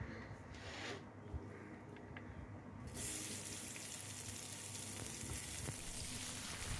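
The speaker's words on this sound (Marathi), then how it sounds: "ते सगळे इन्ग्रेडियंट्स आपल्याला तेलामध्ये फ्राय करून घ्यायचे आहेत" Ginger, garlic and other ingredients fry in hot oil, giving a dense, steady hiss that swells louder partway through and then holds evenly, close by and without talk.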